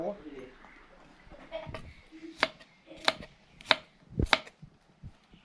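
Knife chopping shallots and garlic on a board while preparing Thai fermented fish dip (pla ra song khrueang), with several sharp, close taps spaced about half a second apart after quieter handling noises, while people talk in the background.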